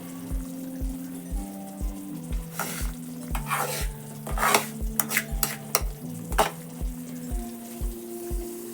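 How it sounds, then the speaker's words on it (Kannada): Semolina (rava) is stirred into a pan on a low flame for pineapple kesari bath: repeated close scraping strokes and a soft sizzle over steady background music, with a few sharper bursts of stirring midway. "ಸ್ಟವನ್ನು ಲೋ ಫ್ಲೇಮಲ್ಲಿ ಇಟ್ಕೊಂಡ್ಬಿಟ್ಟು ನೀವು ರವಾನ ಹಾಕ್ತಾ ಮಿಕ್ಸ್ ಮಾಡ್ತಾ ಹೋಗಬೇಕು"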